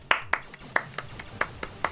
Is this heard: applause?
yes